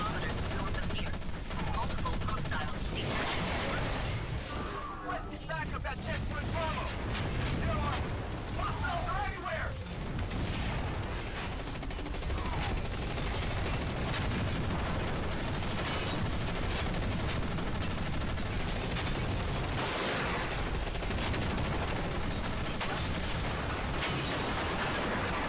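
Heavy mech weapons firing in Front Mission Evolved, a dense continuous barrage of machine-gun fire, booms and mechanical clanking, with someone talking over it.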